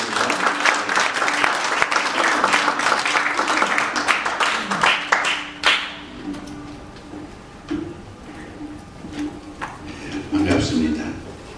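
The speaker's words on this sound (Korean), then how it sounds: "우리 박수로 한번 모시겠습니다." Applause from an audience at a Korean church mission forum, dense clapping filling the room for about six seconds before fading into scattered claps, a few voices and rustling.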